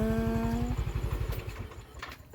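A student rider's motorcycle pulls up nearby, its engine thumping in a loud, rapid, steady pulse that softens and breaks into looser rattling clatter as it settles.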